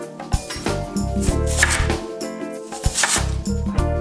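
A knife chops food on a cutting board in a kitchen, with quick, irregular knocks that sit under music playing in the background.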